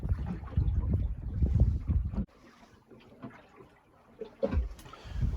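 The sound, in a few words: sailboat sailing in the wind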